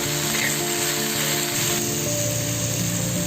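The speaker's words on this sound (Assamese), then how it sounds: "অকণমান টাইম ভাজি ল'লে পাতখিনি লেৰেলি যায়" Pumpkin leaves fry in a pan with a low, steady sizzle beneath a persistent mechanical hum, the crackle faint and even throughout with no voices.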